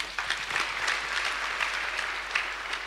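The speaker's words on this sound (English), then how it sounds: "Clap for him better." An audience claps at a church healing service, a soft, even wash of applause that is steady and somewhat distant throughout, with no voices over it.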